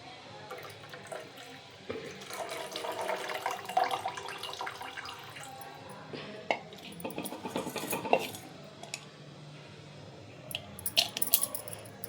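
Sprouts being rinsed in water in a home kitchen, with wet squishing, sloshing and clinks of a metal vessel throughout, a few sharper knocks and rattles near the end.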